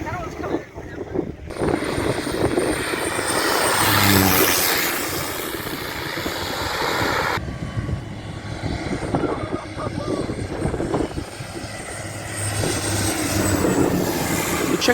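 A large airplane arrives low over the beach at St. Martin's beachside airport, its engine roar loud and sustained throughout, mixed with wind buffeting the microphone and people talking nearby.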